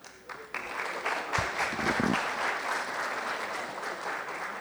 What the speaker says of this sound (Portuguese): peço para que subam para receber os seus aplausos